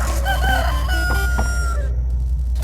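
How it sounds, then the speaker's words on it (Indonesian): A chicken crows and clucks in the video game Poppy Playtime Chapter 3, clear tonal calls over a low steady game hum, fading out near the end. "Ada suara ayam."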